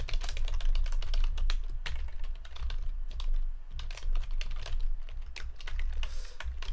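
Fast continuous typing on a computer keyboard, dense rattling keystrokes close to the microphone with a low background hum and no speech.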